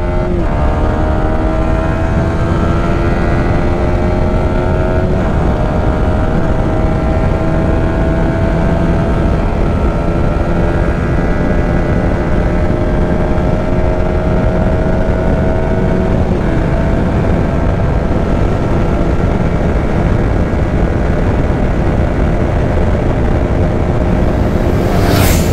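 A Yamaha R15 motorcycle screams along at high speed, its engine note loud and steady throughout with rising and falling harmonic whine as it holds revs near 148 km/h, no voices present.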